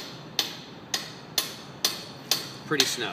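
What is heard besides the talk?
wrenches tightening a bolt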